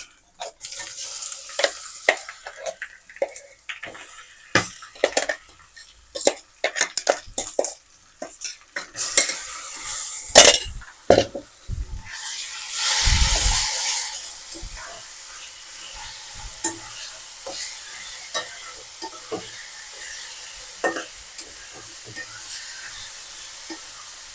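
Tempering for carrot mango chutney sizzles in a pan on low flame with frequent scraping and stirring clatter, a louder burst of frying midway, continuing steadily with no voices.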